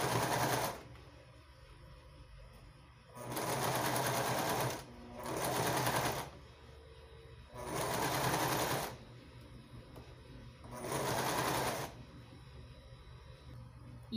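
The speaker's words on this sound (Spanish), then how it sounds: "lo voy a ir costurando abajito de la costura del plisado." A sewing machine stitches under the pleat seam of a child's dress skirt ruffle, running in four loud close bursts of steady whirring separated by quiet pauses.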